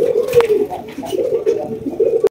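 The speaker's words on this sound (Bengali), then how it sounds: "এখানে কিন্তু আরো এক জোড়া গোল্লা রয়েছে, একদম বিশাল বড় সাইজের" Large Golla pigeons coo in soft, repeated low throaty calls close by, a short rolling series with faint background noise.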